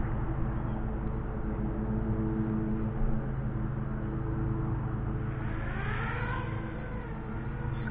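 A home-built quadcopter drone hovers during its first test flight, its motors giving a steady, loud whirring drone throughout with a slight rising pitch sweep near the end.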